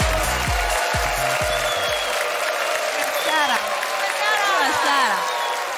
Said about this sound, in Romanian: haideți să o primim cu aplauze furtunoase